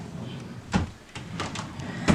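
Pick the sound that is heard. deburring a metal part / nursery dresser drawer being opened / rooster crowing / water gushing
nursery dresser drawer being opened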